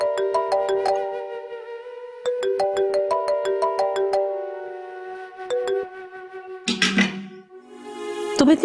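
A mobile phone ringtone plays a repeating melodic pattern of bright electronic notes, ringing unanswered in a Pakistani drama scene, loud and clear, followed by a few brief scuffling sounds near the end.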